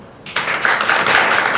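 A studio audience at a televised singing competition breaks into applause for a contestant, the clapping starting suddenly and then staying loud and dense.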